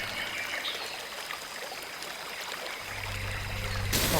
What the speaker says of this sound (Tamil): எவ்வளோ பெரிய அருவிடா